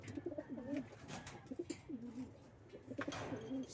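Pigeons coo repeatedly at close range in soft, rolling bursts, fairly quiet overall, with faint rustling and flapping between calls.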